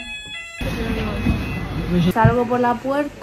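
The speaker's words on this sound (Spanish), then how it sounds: "eso de ahí es la alarma de incendio" A hotel fire alarm in London rings with a steady high-pitched tone while someone talks over it and moves about.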